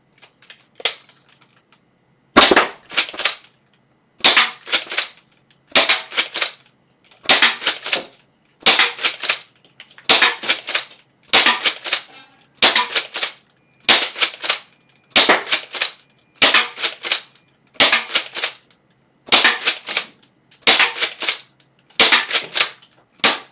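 Dart Zone Stryker 2.0 foam dart blaster firing a long series of sharp, evenly spaced snapping shots, each with a brief spring rattle, close and loud with no talking.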